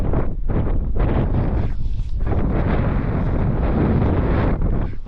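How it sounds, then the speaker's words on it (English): Strong wind buffets the microphone outdoors in a snowy rabbit-snaring spot, a loud, continuous roar with gusting surges and no speech. "I'm going to stay out of the wind here."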